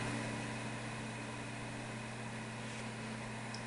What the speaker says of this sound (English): You could hear the 5 1/4 cranking in the background there